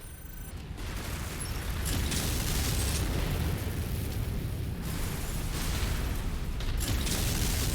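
Missile barrage in MechWarrior 5, a rolling wall of explosions that builds after the first second into a sustained, loud rumble with scattered bursts and pops.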